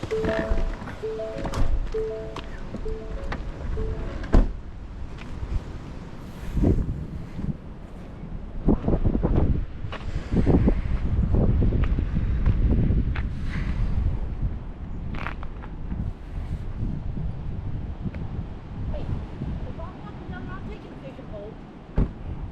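Steady wind buffets the microphone outdoors by a lake in cold weather, a constant low rumble with gusts, while people talk intermittently over it.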